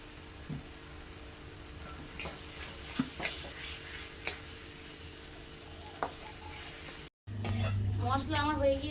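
Chopped tomatoes and salt go into a frying pan and get stirred, with close sizzling, scattered utensil clinks and scrapes against the pan, then a brief cut and a louder stretch of frying with stirring at the end.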